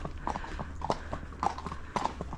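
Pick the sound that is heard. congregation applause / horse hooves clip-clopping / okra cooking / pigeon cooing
horse hooves clip-clopping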